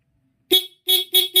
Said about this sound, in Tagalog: Tapos kapag bumusina tayo,